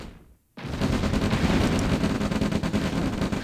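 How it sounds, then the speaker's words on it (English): A tank opens fire in the real-time strategy game OpenRA Red Alert: after a brief hush, loud dense bursts of gunfire and booming shots crackle on continuously and close up. "This tank is shooting at the wrong thing."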